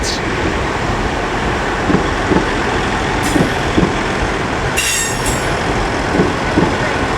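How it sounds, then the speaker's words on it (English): A Northern class 158 diesel unit rolls round the curve at Leeds station, a steady broadband rumble of wheels and engine with rhythmic clicks over rail joints and brief high squeals and hisses, loud and close throughout. "And also coming round here is a Northern 158."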